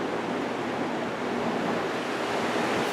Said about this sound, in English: Fans are operational.